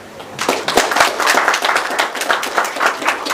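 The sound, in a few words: audience applause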